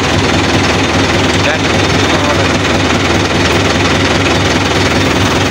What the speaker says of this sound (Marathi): तर मित्रांनो तिथं चालू आहे ट्रॅक्टर वडायला.